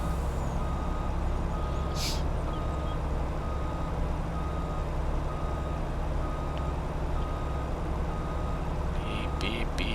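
A truck in Farming Simulator 22 reverses, its backup alarm beeping steadily and repeatedly over a loud, constant engine rumble, with a short hiss partway through.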